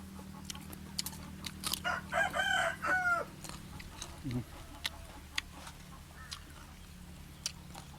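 A rooster crows once in a drawn-out call at moderate distance, with faint low background noise and a brief voice nearby.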